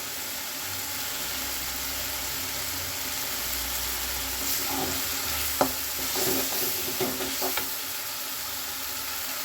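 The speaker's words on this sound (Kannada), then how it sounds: "ನಾನು ಹಾಕಿದೆ ದೊಡ್ಡ ಟೊಮೊಟೊ, 2 ಟೊಮೊಟೊ ಹಾಕಿದೆ, ಹಾಗೆ ಎಣ್ಣೆ ಬಿಟ್ಕೋತಾ ಇದೆ" Two large tomatoes fry in oil for village-style tomato rice, a steady close sizzle with a burst of spoon scrapes and clatters midway.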